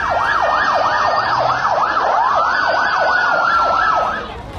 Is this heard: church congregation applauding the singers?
no